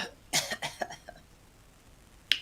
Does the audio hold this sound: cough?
yes